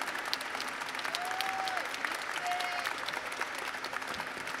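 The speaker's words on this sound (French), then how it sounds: "Je crois que ça met des applaudissements." Applause from a convention audience at a Japan Expo panel talk, a dense, moderately loud patter of clapping that holds steady throughout, with no talking.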